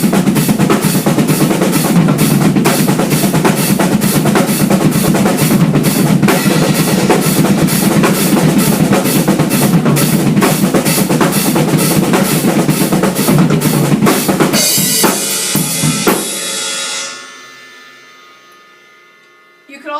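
Rock drum set groove with steady driving 16th notes from both feet under a quarter-note pulse, loud and dense throughout before it stops abruptly and rings out near the end.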